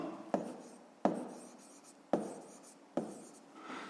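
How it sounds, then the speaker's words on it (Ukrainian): Handwriting during a fifth-grade math lesson, with four sharp pen-down strokes, each trailing off into soft scratching of pen on paper, close and quiet with no talk. "Записуємо"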